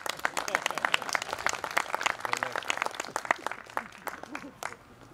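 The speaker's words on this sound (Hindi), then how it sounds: "ताली बजा सकते हैं?" Audience clapping at a Parichay Shivir session in Palitana, Gujarat, a dense scatter of many hands applauding steadily for several seconds at moderate distance before starting to thin out.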